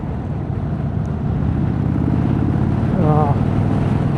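A 2026 Indian Chief Vintage with an air-cooled engine rumbles steadily while riding through long twisty turns, a deep continuous drone that swells slightly near the end as the throttle opens, with faint wind noise mixed in.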